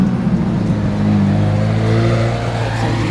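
A sports car fitted with an aftermarket exhaust roars close by, a loud, steady engine drone with shifting low tones that rises slightly in pitch, with no voices over it.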